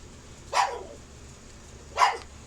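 A young dog in a home barks twice, about a second and a half apart, each a sharp, fairly close bark over quiet background, with no talking.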